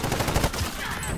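Gunfire in a video game: a short, dense burst of rapid shots, loud and rough, tapering off within about a second.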